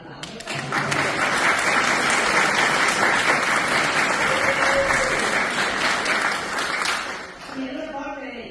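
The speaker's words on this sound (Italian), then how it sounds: "e allora ancora un applauso." A full hall of listeners at a local association's dialect evening claps steadily and densely for about seven seconds, then the applause dies away and a voice begins speaking.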